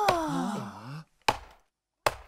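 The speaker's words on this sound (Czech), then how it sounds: "Zní to, jako by někdo sekal dřevo." Axe chopping wood in a park, heard as two sharp, separate chops spaced about a second apart. They follow a brief warbling, voice-like tonal sound.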